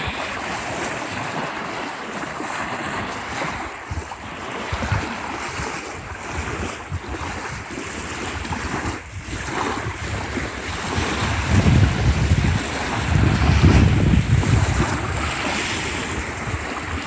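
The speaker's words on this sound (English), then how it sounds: "Nice little beach here with a bench to enjoy the small waves from the lake." Small waves on Lake Waccamaw, North Carolina, wash softly against a beach under heavy gusting wind buffeting the microphone, with a low rumbling swell building near the end.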